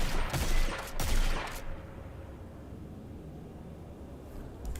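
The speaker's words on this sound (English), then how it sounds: "I guess I could fire off a few rounds and see how it sounds" A few loud gunshots fired in a PC video game, two quick bursts close together followed by fading echo and a quiet tail.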